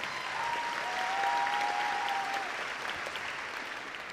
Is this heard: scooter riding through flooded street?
no